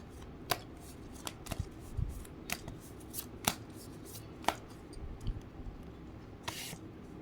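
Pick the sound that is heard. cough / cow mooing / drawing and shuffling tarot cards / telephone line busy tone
drawing and shuffling tarot cards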